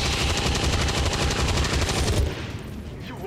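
Dense, rapid automatic gunfire from XCOM 2: War of the Chosen rattles on continuously for about two seconds, then cuts off into a quieter tail of lingering echoes and faint background noise.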